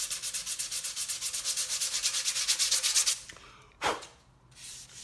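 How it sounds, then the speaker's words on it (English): A Harley lower fairing pod is sanded by hand in quick, rhythmic back-and-forth scratchy strokes for about three seconds. The strokes stop, then one brief rub follows and faint handling noise trails off. "This right here is 2 minutes worth of sanding at this point."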